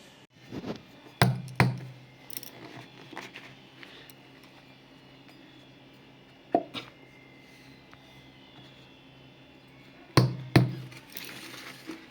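Chapati rotis are cut into small pieces with a few sharp knife thunks against a board, arriving in short pairs separated by quiet pauses.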